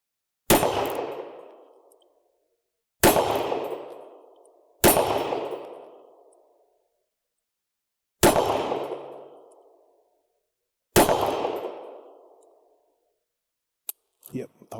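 Five loud, sharp shots from a snub-nosed revolver fired in double action, spaced a couple of seconds apart and each with a long ringing decay, followed by faint mechanical clicks at the end.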